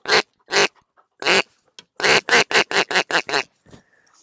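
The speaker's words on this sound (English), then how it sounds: "It's a wood duck call. It's made out of wood," Wooden wood duck call blown in short, sharp tongued bursts: a few spaced squeals, then a quick run of about seven evenly spaced notes, close and loud, ending with a faint trailing squeak.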